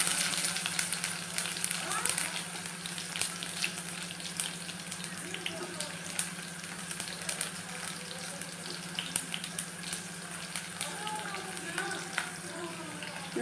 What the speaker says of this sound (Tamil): ஆனியன் சேர்த்துக்கலாம்